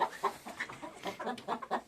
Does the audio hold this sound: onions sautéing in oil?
no